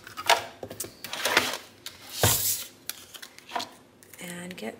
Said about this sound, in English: let's bring over the cut and emboss machine